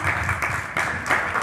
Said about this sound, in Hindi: इसके लिए एक बार जोरदार तालियां बजाएं